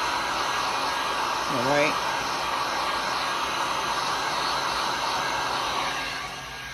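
A hair dryer blows steadily and loudly to flash-dry resin, a continuous close whooshing roar that fades slightly at the end, with a brief spoken word over it.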